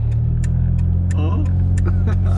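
A car engine idling low and steady on its first drive, a strong constant rumble, with a voice talking briefly over it.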